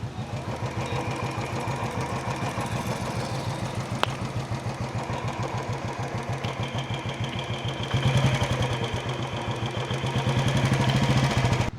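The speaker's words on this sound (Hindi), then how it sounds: "बाकी इंजन अब हमारा साइलेंट हो चुका है पूरा।" A freshly serviced Royal Enfield Bullet motorcycle engine, with a newly replaced oil pump, idles close by in a steady, rapid thumping rhythm that grows slightly louder toward the end.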